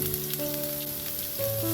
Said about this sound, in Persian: حالا پیازمون رو داخل تابه میریزیم و روی حرارت متوسط میپزیم